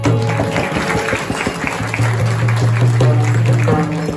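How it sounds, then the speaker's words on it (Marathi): An audience claps at a Marathi Ganesh kirtan, steady clapping over sustained instrumental tones that keep playing, fairly loud and close throughout. "मला एकदा सगळ्यांनी यांच्याबद्दल टाळ्या वाजवा."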